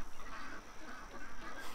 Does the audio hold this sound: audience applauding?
no